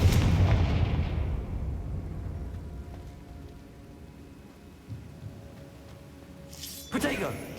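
Confringo fire spell blasts in Hogwarts Legacy: a loud, booming explosion rolls out at the start and decays into a rumbling tail, then a second sharp burst hits near the end, with battle noise between.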